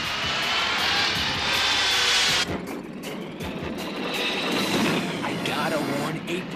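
A cartoon spaceship's aircraft-style engine roars loudly as it flies past, a steady droning rush that cuts off abruptly and is followed by a quieter engine hum, with voices talking over it.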